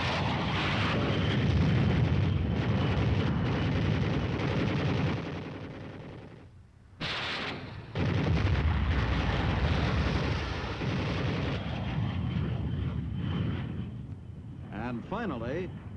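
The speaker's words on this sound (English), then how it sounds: "The next flight uses machine guns and rockets." Aircraft strafing dug-in enemy positions with machine guns and rockets, a continuous roaring barrage of rapid fire and blasts, briefly dipping before resuming, with engine drone under a narrator's voice.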